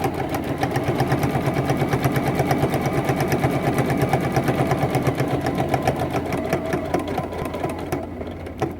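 Steady, fast mechanical chatter from a sewing machine stitching quilt binding, running at a constant rhythm close by, then easing slightly near the end, with no talking.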